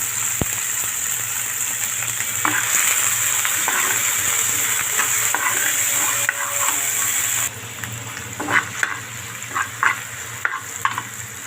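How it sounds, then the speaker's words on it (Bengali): Bottle gourd seeds frying with salt in hot oil, a loud constant sizzle with stirring scrapes that turn into sharper, intermittent clicks and pops toward the end. "লাউ বিচিগুলো ভেজে নেব লবণ দিয়ে দিয়েছি"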